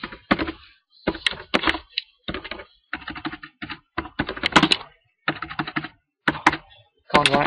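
Typing on a computer keyboard comes in close, crisp clusters of keystrokes separated by short pauses, loud and alone with no talking.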